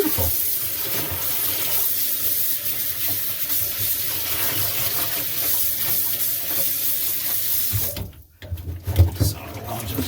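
Cold water runs from a kitchen tap over elk meat during a final rinse while thyme is washed off, a steady close splashing stream that cuts off briefly near the end and resumes with heavier splashes.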